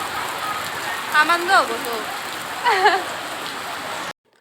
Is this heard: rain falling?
yes